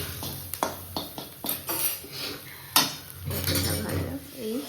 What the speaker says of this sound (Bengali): এবার যা ভালো মতো ফ্রাই করলেই হয়ে গেল।